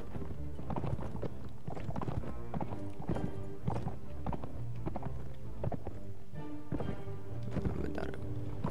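Horse hooves clip-clopping in the Mount & Blade Warband video game, a dense continuous clatter of many overlapping hoofbeats from a mounted group riding through a forest, steady and fairly loud throughout.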